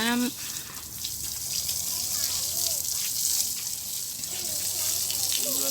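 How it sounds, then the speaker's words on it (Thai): Water splashes and pours steadily as two keepers bathe an elephant outdoors, with a voice audible at the start and briefly again later. "แม่ควานกับพ่อควานก็ช่วยกันอาบน้ำให้กับเจลำดวน"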